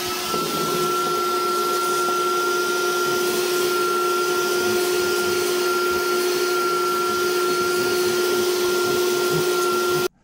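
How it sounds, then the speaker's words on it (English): A vacuum cleaner sucks leaves out of a Mazdaspeed3 engine bay near the hood scoop, a loud, steady whine with a constant pitch that runs unbroken for about ten seconds, then cuts off abruptly. "I always just grab my vacuum and just get all the leaves and stuff that accumulate in here"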